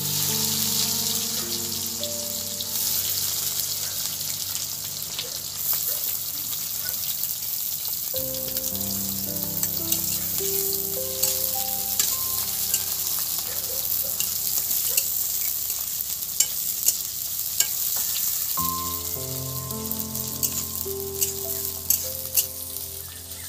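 Chopped onions sizzle and fry with spices for a bitter gourd and potato curry, a steady close crackle under continuous background music, with occasional stirring and no talk.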